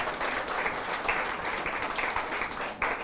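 Church congregation applauding the Lord during a sermon, a steady wash of many hands clapping together, moderately loud and unbroken with no voices over it.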